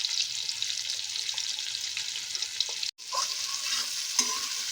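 Tomato and green chili frying in a pan with turmeric and chili powder, a bright continuous sizzle close by, broken by a few stirring clinks and one brief drop in sound.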